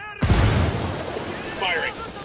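A frag grenade explodes in a video game, one sharp close blast with a short rolling tail that fades, and a voice calling out briefly near the end.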